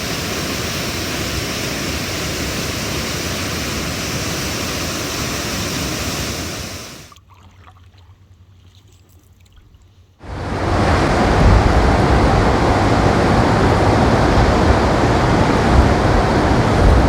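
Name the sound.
Chaudière Falls waterfall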